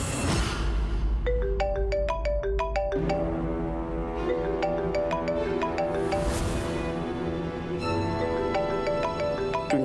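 A phone rings in a Hindi TV drama scene, its tone-like melodic chime repeating steadily over a musical background score for the whole stretch, loud and continuous with no voices.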